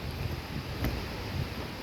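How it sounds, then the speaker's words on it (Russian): Strong wind in Ufa near the Salavat Yulaev monument, a steady, loud rushing roar buffeting the microphone, with one brief gust peak midway, no voices. "Просто мы устали от этого ветра."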